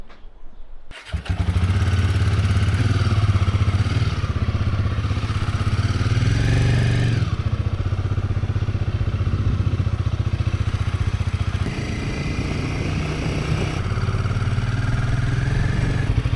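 A motorcycle engine starts abruptly and runs loud and close on a Himalayan road through canyon country, with a steady throbbing drone and slight pitch shifts as the throttle changes.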